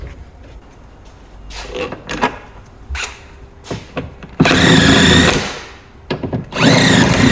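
Power tool bursts, loud and close, as the inside top mount goes back onto a rusty old Alfa Romeo body during a shell swap, with short whirs first and then two longer sustained runs separated by clanks.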